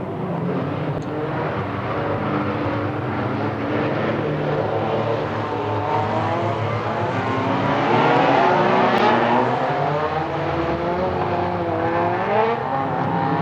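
Race cars circling a track on a rolling lap, a dense steady engine drone with several overlapping revving tones, loud and sustained throughout.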